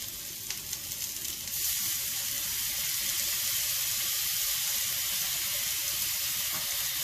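Stir-frying wok style in a home kitchen while cooking pepper steak with ginger and minced garlic: a loud, steady broadband sizzle with faint stirring clatter, close and continuous, no talk.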